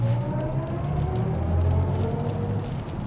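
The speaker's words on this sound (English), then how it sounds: "So if you go into sport mode, you'll hear a sound." Synthetic driving sound from a 2023 BMW i7 xDrive60 in sport mode: a steady, fairly loud low electronic drone with gently rising tonal layers on top, continuous throughout and heard alone without talk.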